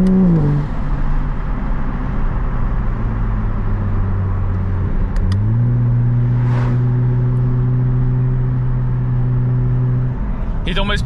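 A Toyota Supra A90 with an automatic gearbox drives along, its steady engine drone dipping and then rising to a higher held pitch as it gathers speed, loud and close with road and cabin rumble throughout.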